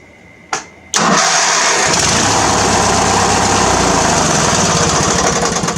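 A John Deere lawn tractor engine with a newly installed solenoid gives a short click, then cranks and catches, settling into a loud, steady running drone close by with no talking.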